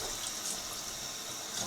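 Steady running cold tap water splashes into a sink as chanterelle mushrooms are rinsed, a continuous broadband rush with no voices.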